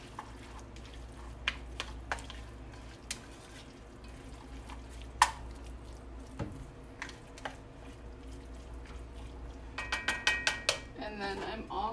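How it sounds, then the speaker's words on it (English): Minced garlic is stirred in a cooking pot, with a utensil scraping and tapping against metal in scattered sharp clinks and a quick cluster of knocks near the end, over a low kitchen background hum, with no talking. "Give this a nice stir."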